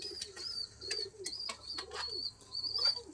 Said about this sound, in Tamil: பாருங்கள் இங்கே வந்து எவ்வளோ புறா நிற்கிதுன்னு பாருங்கள்.